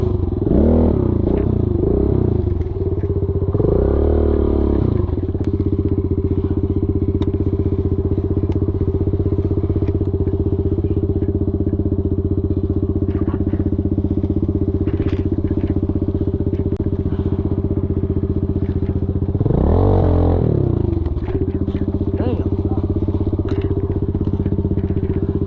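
Stark VARG MX 1.2 electric dirt bike ridden through town, a continuous motor whine and road rumble with a couple of rising and falling power surges.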